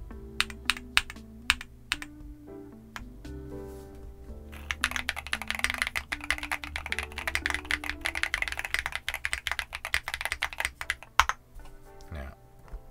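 Fast, dense clicking of an MMStudio Class80R2 mechanical keyboard, sporadic keystrokes at first, then a sustained burst of rapid typing, close and clear over a steady low background hum.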